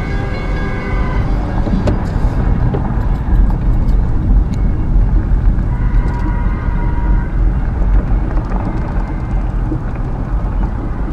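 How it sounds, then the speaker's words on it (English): A car rolls through a city street with a steady, loud road and engine rumble and some faint rattles, heard from inside without talk. "I'm going to drive behind the Spivey building here."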